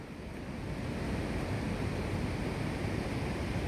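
The River Don in Sheffield, swollen by October flooding, rushes past as a steady low roar of flowing water mixed with some wind buffeting, continuous and fairly even with no voices.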